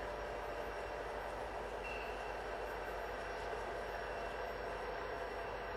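An FEC freight train led by paired locomotives creeps along at about 5 mph, its steady low rumble and broadband rail noise continuous and fairly distant, with no voices over it.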